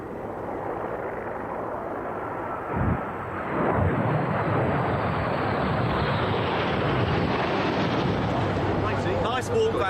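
Red Arrows jet aircraft roar in on arrival at RAF Valley, a loud, broad, rushing engine noise that swells and then holds steady, with some wind buffeting the microphone.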